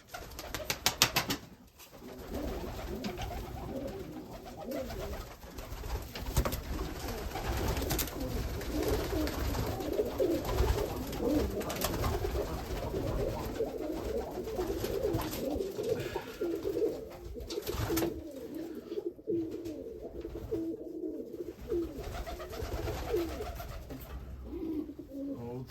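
Pigeons coo steadily in low, rolling murmurs, several birds overlapping close by, with a brief fluttering near the start.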